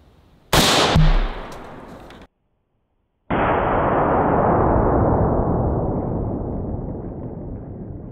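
A 7.62x39 rifle shot striking a sledgehammer at close range: one sharp, loud blast with a metallic ring, then a brief gap and a long, loud roar of noise that slowly fades.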